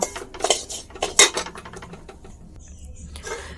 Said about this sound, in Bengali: সুজিটা দেওয়ার পরে ভালো করে নাড়তে হবে এটা সুন্দর করে ভালো করে এই তেলটা দিয়ে সুজিটাকে লাল লাল করে আমরা ভেজে নেব